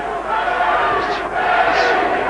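Crowd at a boxing match rising behind their fighter, a dense roar of cheering and shouts that swells and dips, with a commentator talking over it.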